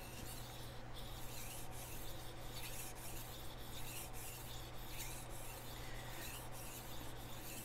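Quiet, continuous rasping of a chef knife edge being sharpened, a soft even scrape with faint regular stroke breaks, close but low in level and alone.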